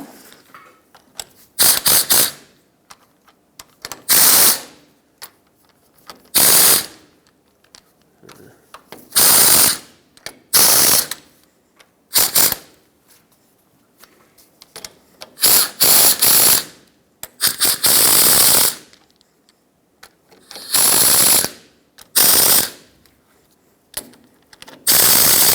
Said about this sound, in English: when I tighten them up, I'm going to go in a cross pattern